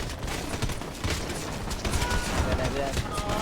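Rapid gunfire in GTA Midnight Club crackles in dense, overlapping bursts close by, continuous throughout, with excited voices talking over the shooting.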